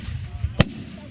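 A single firework bursts with one sharp, fairly close bang in the middle of a short stretch of faint crowd murmur at a fireworks display.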